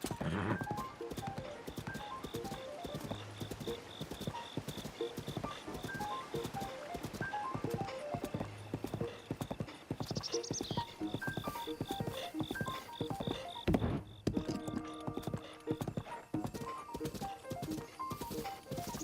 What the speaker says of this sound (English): Hello, wild horses. Goodbye, wild horses.